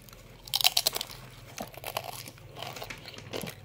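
Someone bites into a thin, crispy homemade peyek cracker, producing close, sharp crunches in a quick cluster, followed by softer chewing crackles.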